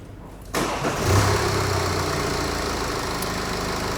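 A car engine being started during a pressure test, a sharp cranking catch after a brief quiet moment, then a steady close idle that holds to the end.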